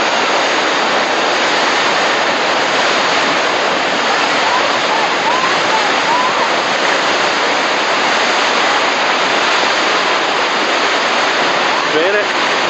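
Whitewater rapids on the Nolichucky River, a loud, continuous broadband roar of rushing water that fills the whole clip, close and unbroken, with faint voices buried beneath it.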